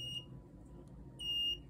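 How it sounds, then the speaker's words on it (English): A buzzer on a Raspberry Pi circuit with an IR sensor gives two short high-pitched electronic beeps, the second longer, clear against a quiet room hum. "the buzzer is start working"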